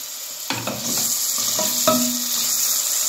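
Chopped onion drops into hot oil in a pan and breaks into a loud, continuous sizzle, with a couple of utensil knocks near the start.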